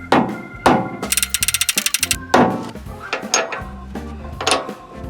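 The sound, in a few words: rubber hammer beating on old Chevy truck steering gear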